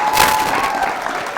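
Loud audience applause for two guests, a vice principal and a colleague, at a youth show taping in Exuma, a dense wash of many hands clapping that stays steady through the short burst.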